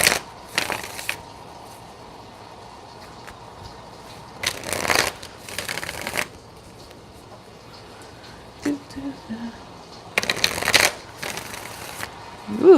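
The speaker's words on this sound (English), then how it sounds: "Ooh, got a nice shuffle going." Tarot cards are shuffled in several separate bursts of riffling with quiet gaps between them, close and crisp, with faint background noise.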